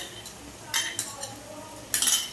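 A spatula works a spice paste of Kashmiri chili powder and sour yogurt in a pan, giving a few sharp close clinks and scrapes against the metal over a faint background.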